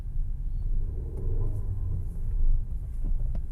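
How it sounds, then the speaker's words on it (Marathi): A car engine revving while the driver shifts into third gear with the clutch pressed, a low droning rumble that swells and dips, heard from inside the car with no talk. "सो आता समजा मला इथे थर्ड गिअर टाकायचा आहे आणि मी ॲक्सिलरेटर दिला त्याच वेळेला."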